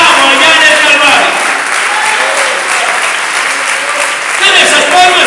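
Church congregation clapping loudly and steadily throughout, dense continuous applause filling the room, with a rise in intensity near the end.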